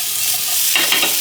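A spoon stirs vegetables frying in a pan for a brown rice and soya curry lunch, giving a steady close sizzle with soft scraping movement, no voices.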